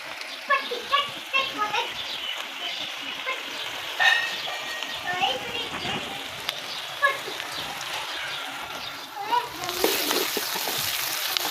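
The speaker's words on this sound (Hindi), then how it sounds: "ये जी हमारा तड़का बन रहा है।" Steady sizzling and crackling of tempering spices and onion frying in hot ghee, with a brief clink and stirring sounds, growing louder toward the end.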